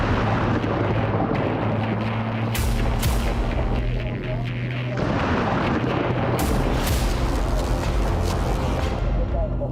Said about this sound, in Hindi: पीएलओ के आतंकवादियों ने बस को विस्फोटकों से उड़ा